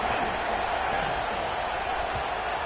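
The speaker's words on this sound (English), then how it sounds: "this crowd is buzzing after that last score" A stadium crowd buzzes in the college football game NCAA 26 after a score, a steady wash of dense distant murmur and cheering that holds without letting up.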